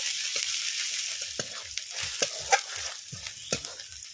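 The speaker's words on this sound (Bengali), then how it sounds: "এবারে পেঁয়াজটা একটু লাল করে ভেজে নেব।" Onions fry in a pan with ginger-garlic paste and ground dried chilli and black pepper, a soft steady sizzle broken by a string of light scraping stirs of a spatula against the pan.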